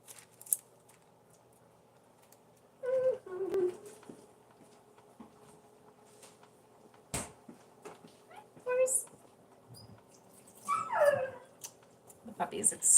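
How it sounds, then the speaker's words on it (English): Upset puppy whimpering indoors in a home kitchen while dinner is cooked, a few short high whines and yips in separate bursts over quiet background, with occasional clatter. "The puppy is extremely upset with me."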